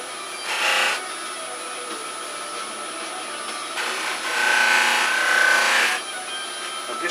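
A chestnut buffing wheel polishes a turned wood piece in several very light passes, giving a soft, steady rubbing whir with two louder swells of contact pressure, no talking.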